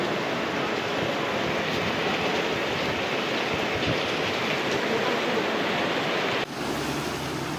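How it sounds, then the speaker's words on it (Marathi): Dense, steady roar of heavy night rain in Kopargaon, Nashik district, pouring down continuously, loud and close, with no voices; the sound dips briefly near the end. "जोराचा पाऊस चालू आहे."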